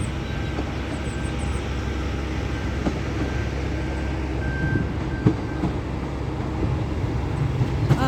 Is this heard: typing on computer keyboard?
no